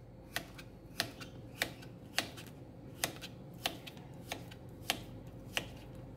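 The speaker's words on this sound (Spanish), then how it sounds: "Y vamos a cortar nuestro pepino así," A knife slices through a cucumber on a cutting board, giving about ten crisp, evenly spaced chops in a quiet kitchen with no talking.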